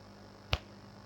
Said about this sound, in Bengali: আমি তুড়ি দিলাম, শব্দ হয় না কেন?